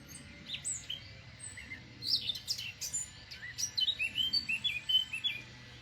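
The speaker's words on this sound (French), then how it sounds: "J'entends les chants d'oiseaux." Several small birds chirp and tweet in a garden, their short bright calls coming in scattered bursts and then a quick rhythmic run of notes, moderately close against a quiet outdoor background.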